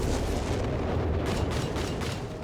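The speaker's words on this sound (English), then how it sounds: "A lot of flak fire there." Anti-aircraft flak fire rumbles continuously in the strategy game Company of Heroes 3, a dense, loud barrage of overlapping booms and bursts with no pauses.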